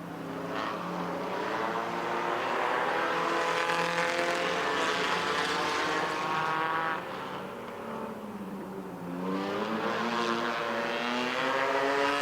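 Midwest Modified race cars roar around Lebanon Midway Speedway, a loud, continuous blend of several engines with rising and falling pitch as the pack circles, dipping briefly midway before surging again.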